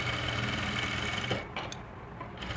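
A sewing machine runs a line of stitching along the hem edge of a salwar cuff, a soft, steady whirring hum that eases off after about a second and a half and continues more quietly.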